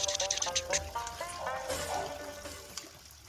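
Fish being washed in water, with short sloshing splashes and trickling pours close by, fading into quieter dribbles toward the end.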